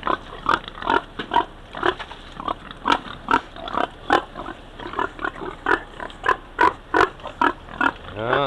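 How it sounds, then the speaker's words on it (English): Pigs in a farm pen grunt and oink in a steady string of short, close calls, fairly loud, with no talking over them. "Those are the pigs."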